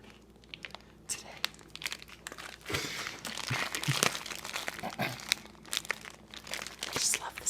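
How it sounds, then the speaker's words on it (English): Close crinkling and rustling as pepperoni slices are handled for pizza, soft irregular crackles that grow louder toward the end, with a little speech mixed in. "I just love the sound of pepperoni."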